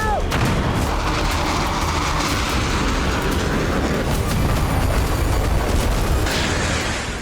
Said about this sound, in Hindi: रूस ने ओडेसा पोर्ट पर भीषण बमबारी की जिसकी वजह से बंदरगाह को काफी नुकसान पहुंचा।